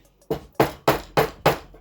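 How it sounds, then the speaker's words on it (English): A hammer taps a pointed tool into wood to dent a mark for a drill bit, giving five sharp, evenly spaced knocks close up with no talk. "just place that on the spot that I want the hole to be, and just give a little hammer."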